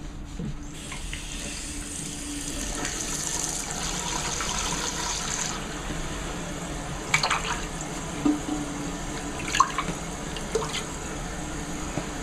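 Water runs steadily into a toilet tank during a repair, a continuous hissing fill with a few small clunks and drips on top, close by.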